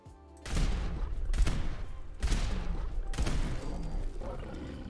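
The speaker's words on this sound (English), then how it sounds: "that Deathclaw went down in 4 shots" Four loud laser revolver shots from the handmade laser revolver, a unique unmodified weapon, fired at a Deathclaw in Fallout 4, each a sharp crack spaced about a second apart over a steady game background.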